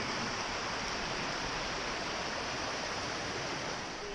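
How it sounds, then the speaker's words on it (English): Water rushing beneath a footbridge on the Mid-State Trail, a loud, steady broadband roar of flowing stream water, close and unbroken, with no voices. "a lot more water running underneath the bridge"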